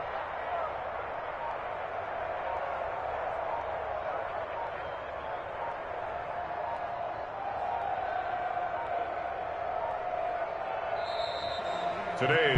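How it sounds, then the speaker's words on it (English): The home crowd applauds in the Madden 21 football game, a steady, moderate wash of stadium crowd noise that runs under a commentator's voice. "And the home crowd applauding."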